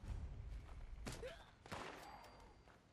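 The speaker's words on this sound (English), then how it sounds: "Ooh, it's gunshots." Gunfire in the video game Fallout 76: a few sharp, distant bursts of shots over a low rumbling backdrop, faint and spaced apart.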